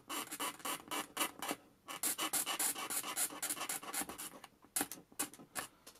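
Close, quiet rapid scraping of the coating off 16mm film leader, a rough, breathy scratching in quick repeated strokes with short pauses.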